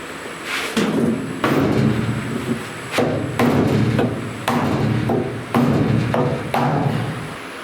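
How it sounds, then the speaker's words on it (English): Heavy blows from a big hammer land on a solid wooden block against a truck door, about eight loud thuds spaced roughly a second apart, each with a short ringing decay. "I'm going to try the block of wood first with the big hammer"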